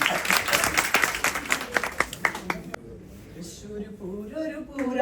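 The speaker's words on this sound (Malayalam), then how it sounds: "നിങ്ങൾ എല്ലാവരും നമ്മുടെ കൂടെ കൈയടിച്ച്" An audience claps in rhythm along with a sung folk song at a Youth Day event, with the sharp, steady claps strongest at the start and fading out as the singing voice takes over.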